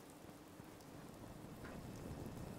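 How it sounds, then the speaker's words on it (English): Steady rain in the video game Fallout 4 patters softly and continuously, a quiet even hiss with no voices over it. "Oh, it's raining."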